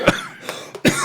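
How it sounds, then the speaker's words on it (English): Several harsh coughs burst out in quick succession, close and loud, with a rough throaty rasp. "I'm still getting over this cough."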